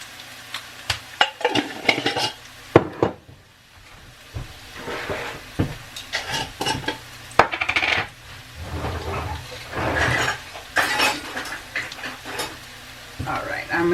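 Onion and bay leaves are stirred in a sizzling pot, with scraping spoon strokes and irregular clinks against the metal over a steady frying hiss.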